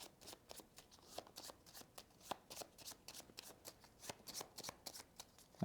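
A deck of cards for the At the Helm board game is shuffled by hand, giving a quick, steady run of crisp riffling flicks that stays close and fairly quiet with no talking.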